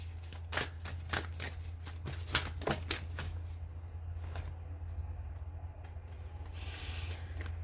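Tarot cards being shuffled by hand, a run of quick crisp riffling flicks in the first few seconds, then quieter rubbing and sliding of the deck, close and soft with no talking.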